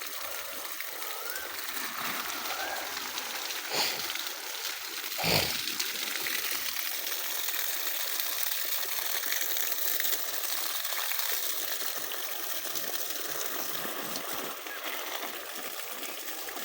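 A mud pump pushes a strong flow of water through a pipe to irrigate a garden, making a loud, steady rushing gush that runs unbroken throughout, with a couple of brief splashy bursts and no talking.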